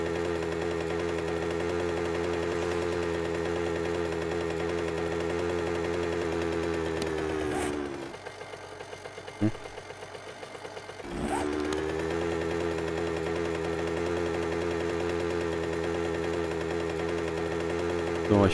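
A motorcycle engine runs steadily in the zombie survival game 7 Days to Die (Alpha 17), giving a buzzing, even drone that cuts out for a few seconds midway and then returns at the same pitch.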